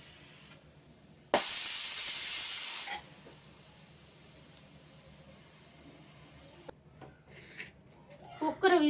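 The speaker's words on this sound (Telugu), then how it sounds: "విసులు పోయిందండి గాలి అంతా పోయింది" A pressure cooker on a kitchen stove lets off steam in a loud, steady hiss lasting about a second and a half, then falls back to a quiet background.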